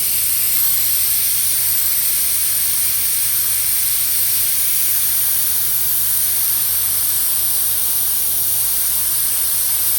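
An airbrush sprays paint onto a motorcycle side cover while a smoke skull design is painted, giving a steady, close, continuous hiss that runs alone without pause.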